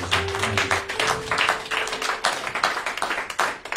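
A church congregation claps and applauds for Jesus, with dense, uneven hand claps running throughout, a sustained voice or tone held under the first half.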